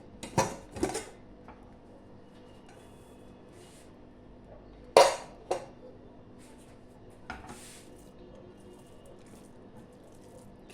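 Pressure cooker of soya khichdi having its lid opened: a few sharp metallic clanks and knocks of the lid and pot, spaced apart over a quiet kitchen background, close and fairly loud.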